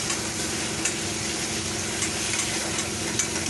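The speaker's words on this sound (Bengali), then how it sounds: "আমি এবার গ্রেটেড টমেটোটা দিয়ে দিলাম, দিয়ে একটু নাড়াচাড়া" Grated tomato being stirred into frying onions in a pan for a Bengali fish curry, a steady close sizzle with soft scraping stirs and occasional spatters throughout.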